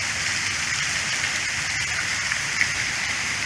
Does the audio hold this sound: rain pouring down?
yes